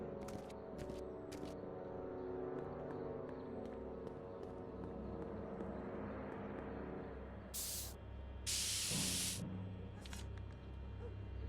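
Spray can hissing in the Back to the Future Part III game, two short bursts of bright hiss near the end over a dense, steady layer of game music and ambience.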